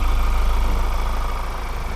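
A 2019 Ford Everest 2.0 Trend's engine idles with a steady, low rumble, evenly throughout, close by, with no voices over it.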